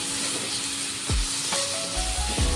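Bitter gourd sautéing in a pan with garam masala and coriander powder, a steady soft sizzle with a few low thumps and clinks of stirring.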